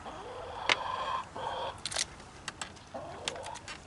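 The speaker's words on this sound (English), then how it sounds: "We got our feathered friends with us over here today" Pigeons or doves cooing close by in a few soft, repeated calls over a low background hum, with a couple of faint clicks in between.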